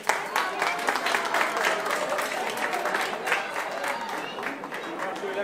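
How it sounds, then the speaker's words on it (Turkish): Mothers and fathers at a circumcision ceremony in Offenbach am Main break into lively applause, a dense patter of many hands clapping steadily, with voices mixed in underneath. "Bir alkış alabilir miyiz?"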